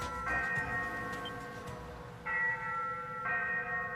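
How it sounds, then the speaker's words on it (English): A ship's bell on a ghost ship in the game Ys VIII: Lacrimosa of Dana rings three times, each a bright, sustained metallic tone, with the last two strikes close together over a low ambient drone. "The ship's bell."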